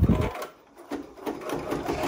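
An embroidery sewing machine stitching the first thread color on fabric for a face mask, a fast continuous mechanical whir up close with a brief dip partway, running alone.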